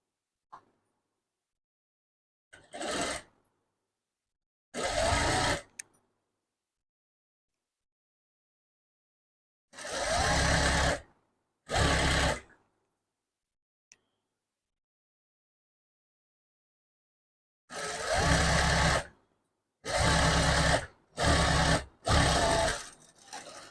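A sewing machine stitches thread piping onto fabric in short, loud bursts of whirring of a second or less, separated by silences, some bursts coming in quick succession.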